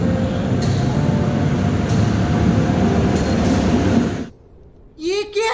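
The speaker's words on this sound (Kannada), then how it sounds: "ಬಂತು ನೋಡಿ ಇವಾಗ ಟ್ರೈನ್" A train pulls into a station, its heavy rumble and rattling wagons loud and steady for about four seconds before cutting off sharply; quieter ambience follows and a voice briefly speaks near the end.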